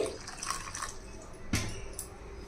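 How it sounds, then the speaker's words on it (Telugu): Water is poured into a ground coconut and tamarind chutney mixture, a soft splashing trickle with a brief louder splash near the middle, heard close against a steady background hiss. "ఆ తర్వాత కొంచెం వాటర్ వేసుకోవాలి"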